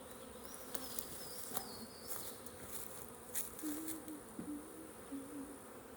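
Honeybees buzz around an open nuc hive during a backyard install, a soft, wavering hum with individual bees droning past at shifting pitch, fairly faint and close, with occasional light clicks and no speech.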